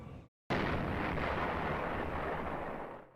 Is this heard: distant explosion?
yes